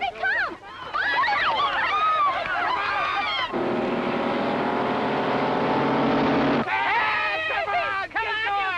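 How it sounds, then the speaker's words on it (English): Hot rod cars race past in an illegal street race, engines droning loudly for several seconds under shouting and talk before and after. "This is illegal hot rod racing."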